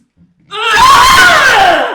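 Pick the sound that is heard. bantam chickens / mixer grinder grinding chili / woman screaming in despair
woman screaming in despair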